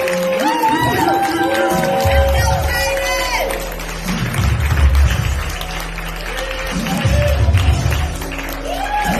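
An audience claps to welcome a speaker onto a morning show stage. The clapping is steady and fairly loud, with cheering voices and a sustained tonal background underneath that rises and falls over about nine seconds.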